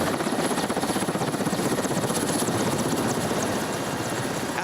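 Russian military aircraft engines run at an air base in Syria, a loud, continuous roar with a rapid rhythmic throb throughout and no voices.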